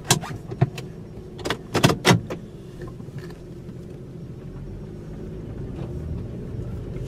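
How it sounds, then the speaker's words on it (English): A car idles with a steady low rumble on a cold day, after a few sharp mechanical clicks and thumps near the start, then pulls away with the engine noise rising slightly and holding steady. "I'm going to let the car warm up for just a minute because it's kind of cold out, and then we'll take it for a spin"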